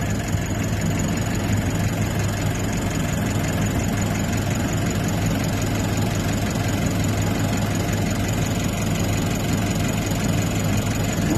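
A car engine idles steadily after starting during a battery cranking test, a constant low rumbling drone close by with no talk.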